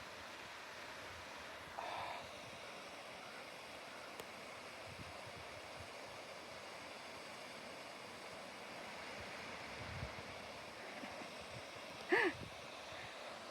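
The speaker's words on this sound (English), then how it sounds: "See the waterfalls?" Steady broadband rush of waterfalls on Thunder Creek along a summer forest trail, a continuous even wash of falling water with a few brief knocks and a faint clack near the end.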